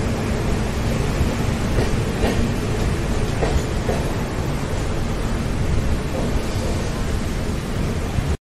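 A double-decker AC express train pulls into Navsari station with a continuous heavy rumble and rolling rattle, punctuated by a few metallic clanks as the carriages pass close by.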